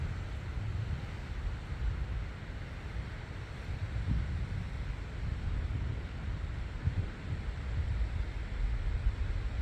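Strong wind gusts roar across a seaside rock, a steady broadband rush buffeting close with faint surf underneath.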